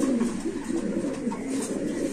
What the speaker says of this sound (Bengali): এটা হলো ছয় পরের কবুতর।